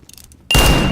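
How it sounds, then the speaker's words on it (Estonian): A flashbang grenade goes off in CS:GO, a sudden loud burst after half a second of quiet, followed by a sustained harsh noise with a high ringing tone. "Throwing flashbang."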